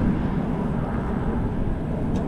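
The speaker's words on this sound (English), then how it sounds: "You can still kind of hear the constant jet noise." Jet aircraft passing over downtown Tempe in the Phoenix airport flight path: a constant broad rumbling roar, steady and fairly loud throughout, with no voices.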